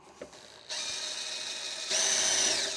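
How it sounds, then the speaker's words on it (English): Power drill boring rivet holes through sheet metal for an organizer bin: a steady whirring drone that starts abruptly and rises to a higher, louder pitch near the end, close up with no talk. "Make sure that you're making shavings with your drill."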